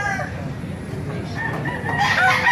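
A rooster crows loudly nearby at a poultry market in Baliuag, its call swelling toward the end over a noisy background of other fowl clucking.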